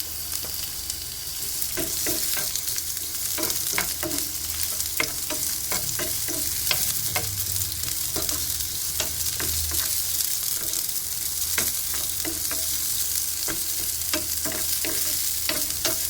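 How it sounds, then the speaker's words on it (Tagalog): Garlic and onions fry together in a hot pan for beef with oyster sauce, a steady close sizzle broken by frequent light scrapes and clicks of stirring, with no talk. "And then we will add na the garlic and onions together."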